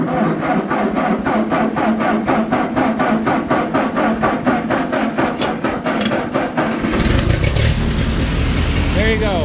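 A Ford 8N tractor with a starter button and choke cranks in a steady rapid chatter for about seven seconds, then catches and roars into a loud, rough idle close by.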